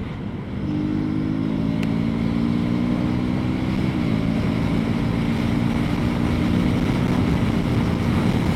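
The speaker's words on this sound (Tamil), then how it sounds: "நான் வந்து அப்படியே கிளச்சை பிடிக்காம கியர் டவுன் பண்ணுறேன்" A 2025 KTM Duke 250 motorcycle engine drones loud and steady throughout, its harmonic pitch rising, dropping briefly as a gear is shifted down without the clutch, then holding again.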